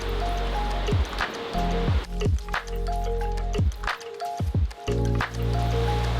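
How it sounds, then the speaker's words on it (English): A river rushing through forest in Olympic National Park, Washington, near Marymere Falls, gives a steady, full wash of flowing water that carries on throughout, with faint tonal sounds layered over it. "We got this river going down"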